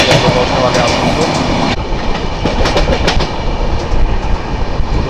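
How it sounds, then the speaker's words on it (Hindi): A passenger train runs on the rails on the way into Asansol, with loud, continuous close rumble and rhythmic clickety-clack of the wheels over rail joints. "ट्रेन जस्ट आसनसोल पहुंचने वाली है"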